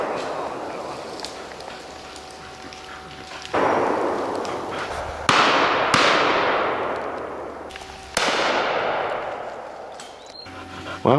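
Shotgun shots at a pheasant shoot in woodland: four loud, separate blasts a few seconds apart, each rolling off into a long echoing decay, with quiet outdoor background between.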